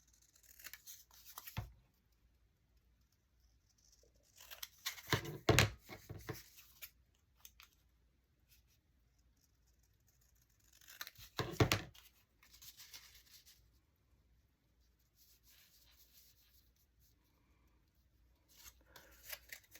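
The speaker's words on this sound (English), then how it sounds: "Let me just cut one of these out." Scissors snip through paper as a picture is cut out for a craft ephemera project, in a few separated bursts of quiet, close crisp cutting with near silence between.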